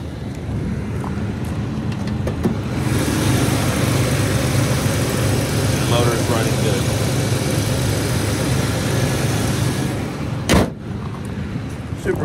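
A garage-kept 1986 GMC S15 four-wheel-drive pickup with a camper top and 41K original miles idles steadily and close by, its low engine rumble even and unbroken, with a sharp click near the end.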